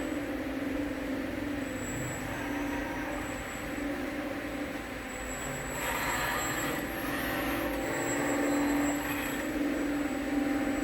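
A refurbished Yaskawa HP20 six-axis industrial robot on an NX100 controller runs a test demo, giving a steady, moderately loud mechanical hum with faint high whine throughout, no talking.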